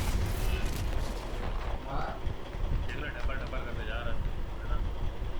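Gunfire in Valorant, played as Phoenix: dense, continuous bursts of shots and battle noise fill the mix at steady loudness, with a voice speaking briefly over the din.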